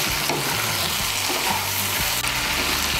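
Okra and potato curry sizzles and crackles steadily in a frying pan while being stirred, with soft scraping strokes under continuous close frying noise.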